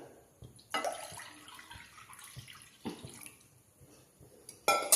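Water splashes and trickles into a metal pot in a few bursts, with clinks of the vessel, close by and fairly loud.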